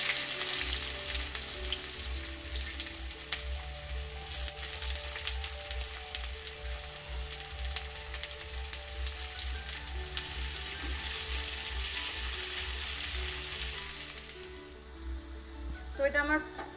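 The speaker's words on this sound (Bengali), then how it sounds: "তো এটা আমার পেঁয়াজটা লাল করে একটু ভেজে নিয়েছি, খুব একটা লাল করিনি, ভেজে নিয়েছি।" Chopped onions fry steadily in hot oil with whole dried red chillies, a dense continuous sizzle that holds close and loud throughout, with a few scrapes of stirring and a brief crackle near the end.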